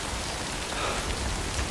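Steady rain falls in the video game Death Stranding, a dense continuous hiss of raindrops on surfaces, even and unbroken with no voices.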